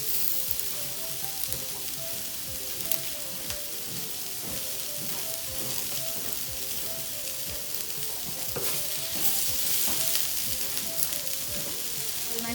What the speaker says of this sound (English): My sauce is boiling there.